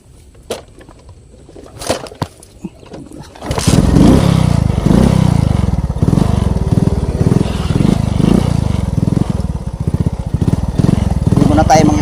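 A motorcycle engine starts after a few quiet clicks and knocks, then runs loud and close with a rough, throbbing idle for the rest of the stretch.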